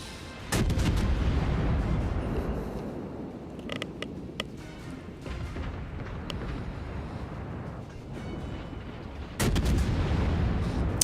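Ship guns boom in a naval warfare game: a heavy salvo opens with a loud blast, followed by a long rumbling roar, scattered sharper cracks and creaks, and a second big salvo near the end.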